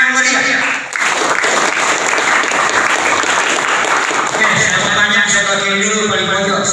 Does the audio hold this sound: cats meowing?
no